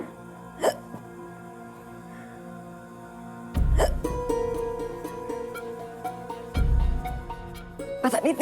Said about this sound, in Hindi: पता नहीं इतनी हिचकी क्यों आ रही है।